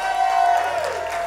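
A church congregation cheers and applauds in a steady, dense roar of clapping and shouts that fills the room at a constant loud level for a moment.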